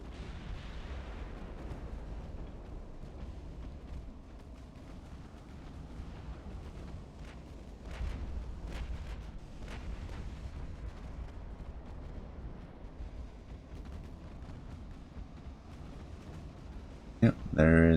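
Naval gunfire in the Ultimate Admiral: Dreadnoughts game as ships come under fire, with deep rumbling booms and scattered blasts over a constant low engine-like drone and someone talking throughout.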